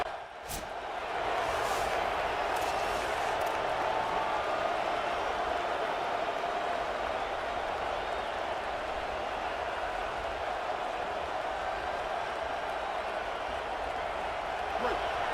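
Crowd noise at a college football video game, a sustained wash of cheering and stadium roar that swells in after a brief start and holds steady, with a commentator talking over it.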